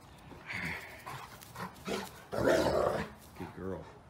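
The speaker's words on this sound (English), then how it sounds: "Jim says B is for Beagles. Show me your dog" Beagles in a muddy backyard bark and growl in short, close bursts that alternate with panting. A person talks between the dog sounds.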